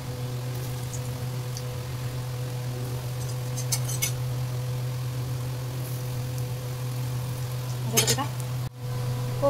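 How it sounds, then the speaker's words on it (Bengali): Koftas made from raw green bananas frying in hot oil, a steady close sizzle over a constant low hum from a fan or burner, with a few sharp utensil clinks. "কোপ্তাগুলো ছেড়ে দিয়েছি, ভাজা হোক"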